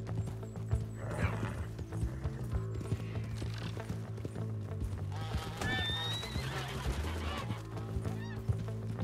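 A horse in the video game Red Dead Redemption 2 gallops with rhythmic clip-clopping hooves and gives loud whinnies. Honking bird calls and a faint voice sit in the background.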